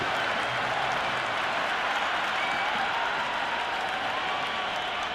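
A stadium crowd roars in the Cricket 26 video game during a Lahore Qalandars versus Islamabad United match, a steady, dense wash of cheering and applause that holds at a constant level throughout.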